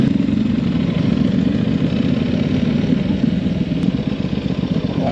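A Honda CB500 motorcycle engine runs steadily close by, a continuous loud rumbling idle with a faint mechanical clatter and no voices over it.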